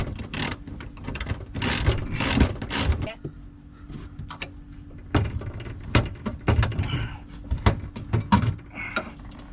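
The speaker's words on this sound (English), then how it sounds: "So this electrical box is screwed just to the wall here. I'm going to unscrew that" Screws are worked loose from an electrical box on the wall of a Tommy camper, giving bursts of sharp ratcheting clicks separated by pauses and quieter mechanical handling, close by, with some voice in between.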